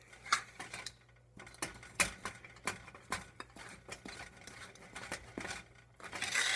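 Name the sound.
big spoon mixing thick cookie dough in bowl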